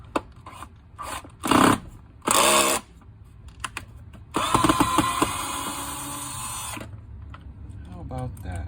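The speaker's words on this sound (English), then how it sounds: "then we're just going to take off the screws here" Screws come out of a Schumacher jump starter battery case with bursts of a power driver whirring, short buzzing runs and clicks between pauses, close and loud.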